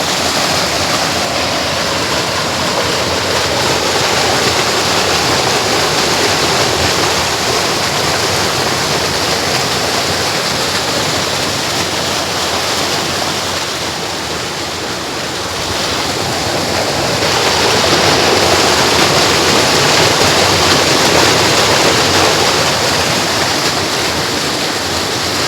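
A forceful waterfall crashing down while someone fishes with a net nearby, a loud, continuous roar of pouring water that dips briefly midway and then swells again, with no talk.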